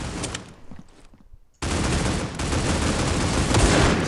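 Sustained automatic gunfire in the mobile shooter game Critical Ops, a dense, loud rattling burst that pauses briefly, then resumes as a continuous, heavy stream of rapid shots.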